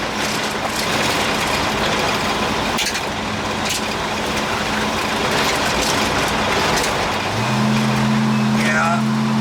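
A car rolls down an old concrete road at a fly-in and car show in Sauk Centre, a steady broadband road and engine rumble throughout, with a low tonal hum rising near the end and a person talking over it.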